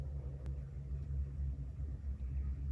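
A small 120 psi air compressor with a 1 horsepower, 1700 RPM motor runs with a steady low hum and rumble, continuous and fairly quiet, with a couple of faint ticks.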